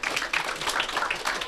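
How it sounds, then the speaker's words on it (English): Group clapping at a youth football camp in Point Fortin, a steady patter of many hands close by, sustained without a break, with a faint voice underneath. "Give him a round of applause"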